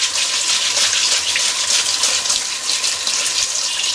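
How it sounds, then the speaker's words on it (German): A Märklin model train motor is rinsed under running tap water to wash out orange cleaner, a loud, steady gushing that fills the whole stretch without pause and with no talking. "Bitte unter fließendem Wasser"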